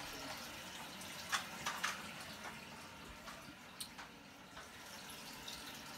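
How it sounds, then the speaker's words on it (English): Water from a leaking toilet trickles and drips steadily into a floor drain, a faint continuous wash broken by a few soft splashy drips, with no talking. "So where's the water going? It's going straight into the drain."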